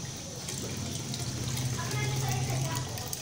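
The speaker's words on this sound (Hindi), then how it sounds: "जो पीसे हुए चने हैं बस उसका पानी डालना है निकाल कर" Water drained from ground black gram is poured into a dish in a home kitchen, a steady, close liquid stream running continuously for a few seconds.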